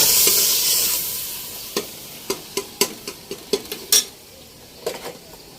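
Turmeric and coriander powder are stirred in a cooking pot: a string of sharp metallic scrapes and taps over a faint sizzle, fairly close, without talk.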